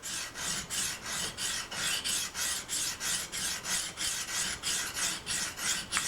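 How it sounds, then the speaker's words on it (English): Hunting knife drawn along a sharpening stone, a gritty rasping scrape repeated in a steady even rhythm of about two and a half strokes per second, close and clear with no voices. "you want to make that stone lay right on that same grind and just ride right on it."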